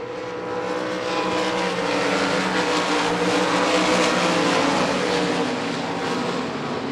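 Sprint cars with 305 engines race on the gray clay oval at Devil's Bowl Speedway in Texas, their engines a loud, continuous roar that swells slightly as the pack passes.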